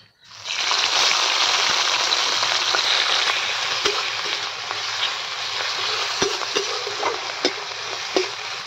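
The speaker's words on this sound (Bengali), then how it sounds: "যে মাশরুমগুলোকে সিদ্ধ করে রেখেছিলাম সেইগুলো এখন তেলের মধ্যে দিয়ে ভেজে নেব" Boiled mushrooms frying in hot oil give off a loud, steady sizzle with a broad hiss that holds throughout, broken now and then by small pops and stirring clicks.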